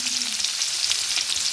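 Onions sizzling in hot oil in a home kitchen for chicken onion rolls, a dense, steady hiss of frying with soft crackles, close and loud throughout.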